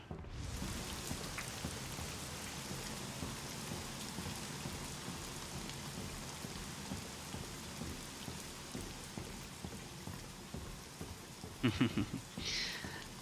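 Steady rain falling outdoors, a continuous soft hiss of drops on surfaces heard from indoors, faint and even throughout, with a few brief knocks near the end.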